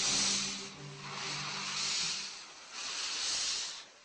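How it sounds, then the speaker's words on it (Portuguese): A steam locomotive vents steam in long, loud broadband hisses that swell and fade in three surges, with a low rumble of machinery underneath early on. "o século XIX tem seu ritmo ditado pelo som das locomotivas a vapor"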